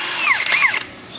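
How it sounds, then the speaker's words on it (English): An impact wrench fitted with a 19 mm impact socket whirs on a 2021 Toyota Tacoma suspension in brief, loud, rising and falling bursts, heard alone. "19 millimeter impact socket coming in"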